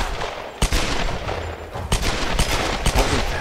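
Gunshots in the video game Tomb Raider: several sharp, loud reports spaced irregularly over constant background game noise.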